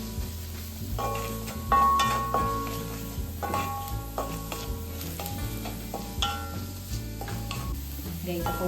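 Onions frying and being stirred in a pan for upma make a steady close sizzle, with repeated scraping and clinking of the spoon against the pan at a fairly even rhythm and no talk.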